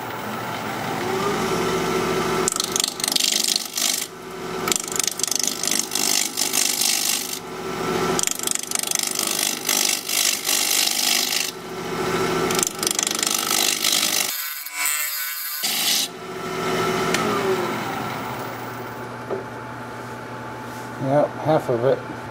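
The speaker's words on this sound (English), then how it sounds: "I'm gonna be using a half inch bowl gouge. We're gonna be turning at 1500 RPM." A wood lathe spins a Siberian elm bowl blank at 1500 RPM while a half-inch bowl gouge cuts it, giving steady scraping and chattering passes broken by short pauses, fairly close and loud.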